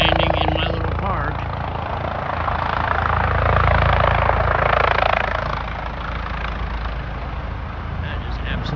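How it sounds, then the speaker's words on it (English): A helicopter landing in a small park makes a loud, steady rotor and engine roar that swells in the middle and then eases slightly. "there's a helicopter landing in my little park"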